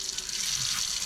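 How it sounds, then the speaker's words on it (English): Hot water runs steadily from a kitchen faucet while vintage Tupperware is being cleaned, a continuous close hiss with a slight splashing texture and no talk. "I just turn on hot water"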